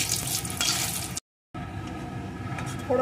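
A dried red chili and Bengali five-spice tempering crackle in hot oil, a loud, close sizzle that breaks off briefly and then resumes.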